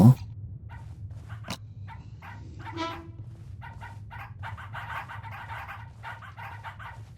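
A dog in the horror game Pacify barks a few times over a steady low background hum, faint and intermittent, with no talking.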